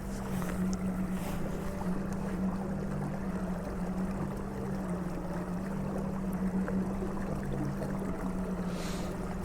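A small boat driven by a Pacmotor outboard motor runs steadily in cold weather on the water, the motor's low, constant drone close by under wind rush, with no talking.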